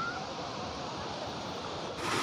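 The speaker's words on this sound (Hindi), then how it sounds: "वहाँ पर इधर जो कि काफ़ी ज़्यादा की पानी है, धार भी चल रहा है" Water rushes steadily outdoors as a stream current flows past, making a constant broadband wash that swells slightly louder toward the end, with no voices.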